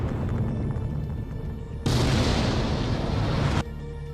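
A SpaceX Starship rocket test explodes with a sudden loud, broadband roaring blast that holds for under two seconds and then cuts off, over a continuous low rumble.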